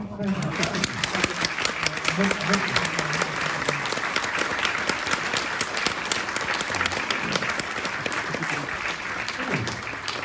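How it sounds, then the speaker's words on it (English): Continuous applause from an audience at a Tomb Raider fan event in Derby, dense clapping throughout, with some talking heard under it. "Big round of applause."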